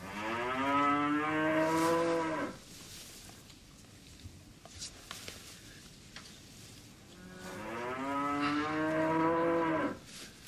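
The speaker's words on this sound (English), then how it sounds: "You've been midwife to a cow before then, Peter" A cow in labour moos loudly twice, long drawn-out calls near at hand, separated by a quieter pause filled with faint shuffling and low background noise.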